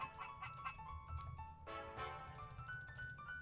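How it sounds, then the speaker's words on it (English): A gunpowder chicken in modded Minecraft survival clucks repeatedly in short bursts, close and fairly quiet, with a few tonal game sounds ringing alongside. "I have a gunpowder chicken"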